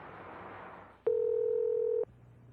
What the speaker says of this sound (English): We did reach Nish by phone